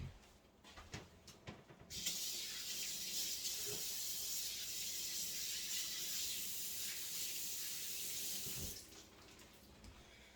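A kitchen faucet runs steadily for about seven seconds while hands are washed, a close, even hiss of water with a few clicks and handling sounds before it is switched on and after it shuts off.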